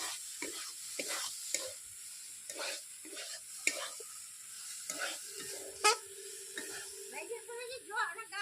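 Soybean and potato curry with a splash of water being stirred in a pan, soft scraping strokes repeating over a low sizzle, close by, with a brief clink near the end.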